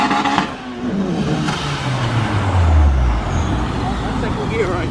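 A car accelerating in second gear, its engine note rising steadily and loud, with people talking over it.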